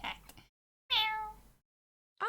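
A person imitates a cat, giving a clear, close meow between stretches of silence, with a clipped fragment of another meow-like sound at the start and the beginning of another at the very end.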